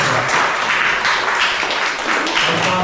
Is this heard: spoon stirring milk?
no